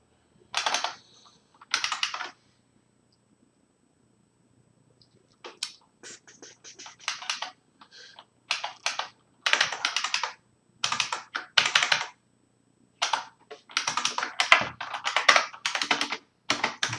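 Typing on a computer keyboard at close range, bursts of quick clicky keystrokes broken by pauses, some runs dense and rapid, others sparse; no talk.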